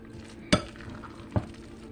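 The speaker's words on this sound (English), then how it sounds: "Mix that up really well." Salmon croquette mixture is stirred in a bowl, giving two sharp knocks of a utensil against the dish about a second apart. Faint low background sound fills the gaps, with no talk.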